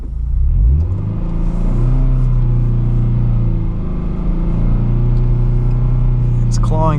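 A Subaru BRZ on all-season tires claws its way up a snowy hill. Its engine gives a loud, close droning rumble with rising and falling revs as the wheels fight for grip.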